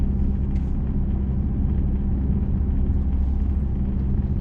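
A car rolls steadily at 30 km/h in second gear, the engine giving a low, even rumble that holds constant and close with no voices over it.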